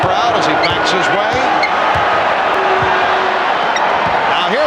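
A basketball arena crowd at the 1993 NBA Finals, Phoenix Suns against Chicago Bulls in Game 4, gives off a loud, sustained roar and buzz, with a few sneaker squeaks and sharp knocks from the court over the noise.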